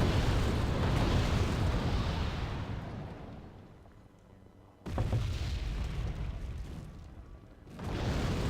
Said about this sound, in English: The mortar's firing into the area.